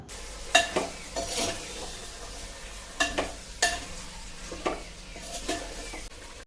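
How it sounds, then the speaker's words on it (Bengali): Chicken pieces for a chicken handi being sautéed dry without water in a pan, with a steady sizzle broken by repeated scraping stir strokes at irregular intervals, close and fairly loud. "এবার মাংসটা আমি ভালো করে কষিয়ে নেব"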